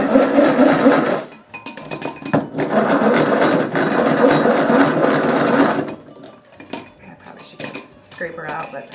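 An electric hand mixer whirs steadily while beating three eggs with about a cup of sugar in a bowl, its beaters clattering against the dish, then stops and restarts briefly with quieter scraping sounds.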